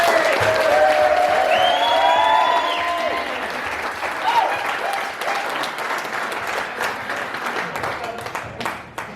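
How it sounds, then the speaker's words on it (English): Loud applause from a large wedding crowd, with whoops and cheers early on, gradually thinning as a voice begins speaking over the fading clapping. "ask the crowd to give you guys the biggest round of applause"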